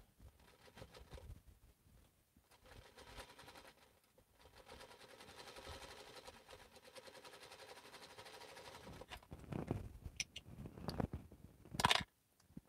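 Vintage Featherweight sewing machine stitching, a quiet steady mechanical whir and patter that runs through most of the clip, growing busier toward the end with a few sharper clicks.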